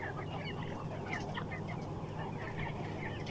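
Broiler chickens about 23 to 24 days old cluck and chirp in a shed, a continuous soft chorus of many birds over a low steady hum, faint and moderately distant.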